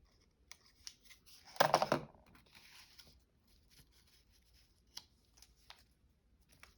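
Scissors snip through paper during fussy cutting: light scattered clicks and taps, one louder cluster of close crisp cuts partway through, then sparse quiet snips in a hushed room.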